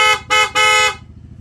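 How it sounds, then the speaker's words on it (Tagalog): Three loud honks from an aftermarket PIAA horn on a Honda Click 160 scooter: two short blasts, then a longer one of almost half a second, each bright and close, with a low idle hum underneath. "Sige sir, busina po muna sir."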